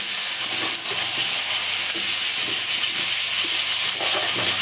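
Potato pieces frying in a karahi of hot oil seasoned with salt and turmeric make a loud, dense, steady sizzle with a spoon scraping and stirring through it throughout, and no one speaking.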